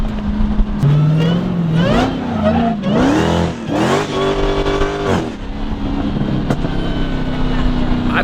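A Dodge Hellcat accelerates hard with rising engine revs and tire squeal, loud and close, the engine note climbing in several sweeps before settling to a steady drone while people talk over it.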